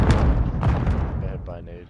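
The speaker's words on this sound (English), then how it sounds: "Get hit by a nade." Several heavy booms burst out in a Call of Duty match, one of them a grenade explosion, thudding loud and close in quick succession before dying away under a voice.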